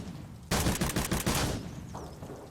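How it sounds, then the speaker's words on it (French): Gunfire in the video game Zero Sievert: a loud close burst of rapid automatic shots lasting about a second, followed by a fading echoing tail. "ça tire."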